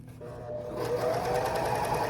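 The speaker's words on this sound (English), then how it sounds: "we're gonna sew off of the silk" A sewing machine hems the edge of silk fabric, a close, steady mechanical whir that starts quietly and builds into continuous stitching.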